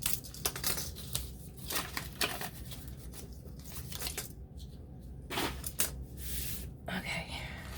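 Cardboard box flaps being cut off by hand, a run of short sharp snips and tearing crunches at irregular intervals, fairly close and moderately loud, with quiet gaps between cuts.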